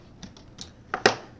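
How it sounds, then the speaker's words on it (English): Typing on a computer keyboard: a handful of irregular soft key clicks ending in two sharper taps, close and isolated in a quiet room. "So I'm going to start typing in some of these brands here."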